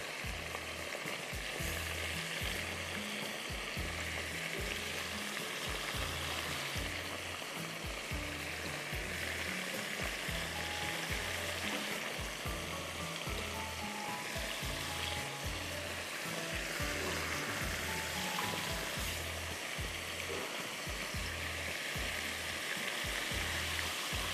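Prawns fry in hot oil until golden for Schezwan prawns, a steady dense sizzle with a rhythmic low thumping underneath, loud and unbroken throughout, with no talking.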